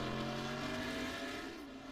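A race car in the Free Car Cup sim racing series, car number 41, drops down through the corkscrew at Laguna Seca, its engine holding a steady droning tone that eases off slightly as it goes.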